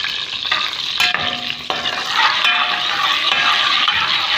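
A stock cube fries in a little oil in a pan, giving a loud, close, continuous sizzle with crackling bursts and a few sharp clinks as it is stirred.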